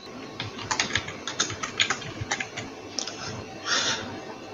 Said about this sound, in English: After typing my search